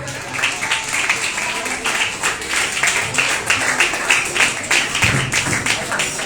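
An audience claps for a guest uncle at a VBS gathering, a steady patter of many hands of moderate loudness, with voices talking beneath the applause.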